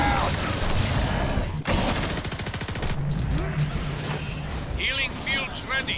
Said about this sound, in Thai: ปืนไฟฟ้ายิงมัน ยิงรัวๆครับ